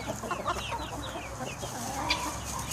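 Chickens and a rooster cluck and chatter close by, a busy flock sound with short bursts of calls and no talking.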